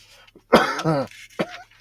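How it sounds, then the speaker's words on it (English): A single harsh, raspy cough up close, followed by a short throat-clearing burst, in an otherwise quiet room. "Don't mind my good old cough."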